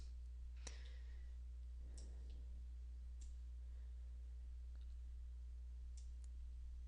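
Computer mouse clicks, a handful of sharp, faint taps spaced irregularly over a quiet background hum, with no talking.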